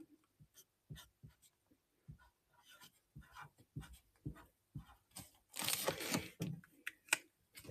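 A marker pen writing short strokes on paper while drawing a cartoon strawberry, the faint squeaks and scratches coming in irregular bursts between pauses, close and quiet with some tearing or rubbing near the end.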